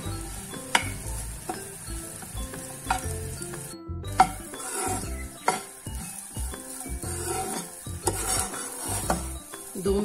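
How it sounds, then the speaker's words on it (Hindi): Semolina and vegetables roast in a pan while being stirred, giving a low sizzle broken by frequent metal spoon scrapes and clinks against the pan, close and fairly loud, with no voices and a brief pause midway. "दो मिनट के लिए इसको इसी तरह से भूनते रहेंगे जिससे सूजी और सब्जियां अच्छे से हो जाए"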